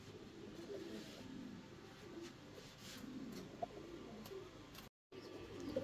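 Fancy pigeons coo softly at a pigeon farm in Natore, their low, rolling calls faint and repeating over quiet background murmur, with a brief dropout near the end.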